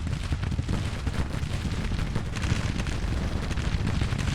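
Artillery fire and explosions roll on in the Civil War strategy game Grand Tactician, a dense, loud barrage of booms and crackling gunfire with no pauses and no voices.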